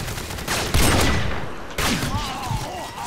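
Gunfire in a first-person shooter video game, two loud sharp shots with rumbling echo tails, close and dominant.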